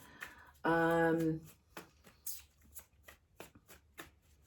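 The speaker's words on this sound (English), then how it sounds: "Eventually, I will learn how to shuffle cards since it is what I do for a living." Rapid riffling of playing cards being shuffled, a series of crisp clicks and ruffles, with a brief musical tone early on.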